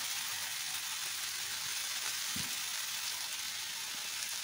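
Potatoes and pointed gourd fry in a pan with a continuous, fairly loud hissing sizzle. The sizzle stays even throughout, with a faint thump midway and no voices.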